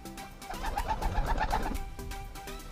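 Racing pigeons coo in a soft, close burst of rolling, rhythmic calls lasting about a second, with light background noise and no talk.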